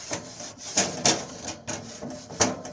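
A wooden paddle scrapes and cleans a grill in a series of short, separate rasping strokes at an uneven rhythm, close and moderately quiet.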